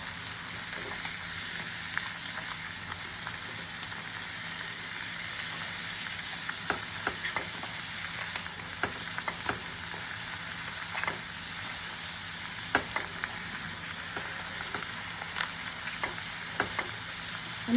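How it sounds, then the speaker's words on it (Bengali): Snake gourd wrapped in sal leaves cooking slowly in a little oil, giving a soft continuous hiss and frying crackle with scattered small pops, steady and low in level throughout, with no voices. "শাল পাতায় মোড়া চিচিঙ্গে ছেঁচি করছি"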